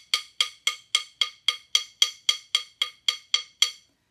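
Drumsticks clicked together to imitate cracking lightning: a steady run of about fourteen sharp, bright wooden clicks in quick even rhythm, close and fairly quiet, with no voices.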